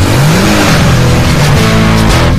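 A classic muscle car engine roars loud and close with a steady, throaty drone, its pitch rising slightly and then holding.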